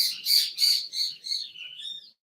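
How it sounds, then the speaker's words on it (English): Birds outside chirp in a run of five or six high, bright calls, evenly spaced and fairly close, fading slightly toward the end before silence. "stupid birds."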